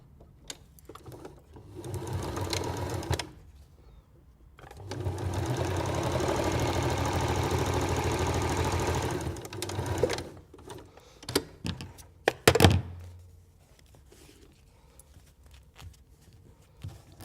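Sewing machine stitching together blocks of patchwork fabric, with a short run near the start and then a steady whirring stretch of about five seconds, followed by brief clicks and handling noises.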